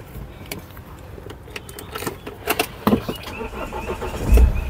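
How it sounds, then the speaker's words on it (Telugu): A 2015 Mahindra XUV500 W6 starts on a single crank: clicks and rustling inside the cabin lead to a brief starter burst, then the engine catches with a low thump and settles into a steady near idle. "సింగిల్ సెల్ఫ్లో స్టార్ట్ అయిందండి, అలాంటి స్టార్టింగ్ ట్రబుల్ అయితే లేదు"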